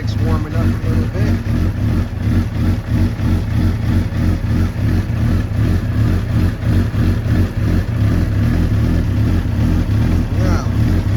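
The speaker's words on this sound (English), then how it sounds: "Bike's warming up a little bit." A motorcycle engine warming up after starting, running steadily and loud throughout with a low, continuous mechanical drone and faint pulsing.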